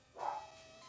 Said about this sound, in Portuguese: Ah, cachorrada.